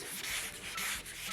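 Hand block sanding of Eastwood 2K primer on a Camaro body panel, rhythmic close rasping strokes back and forth, loud and continuous.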